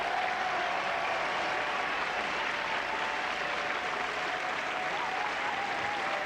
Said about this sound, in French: je demande au public à nouveau de vous applaudir chaleureusement